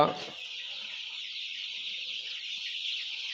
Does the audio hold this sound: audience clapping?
no